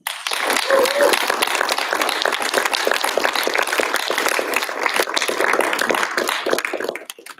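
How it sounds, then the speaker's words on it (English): An audience at a TED-style talks event applauds its speakers with a dense, sustained wash of clapping that stays loud and even for several seconds before fading at the end. "Let's give our speakers one more round of applause."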